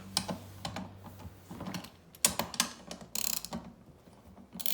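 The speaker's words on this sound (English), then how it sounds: "I'm gonna break them all loose first with the wrench." A 10mm socket wrench ratchets while loosening the wheel bolts on a Microformer, giving close, crisp clicking bursts in short irregular runs with brief pauses between.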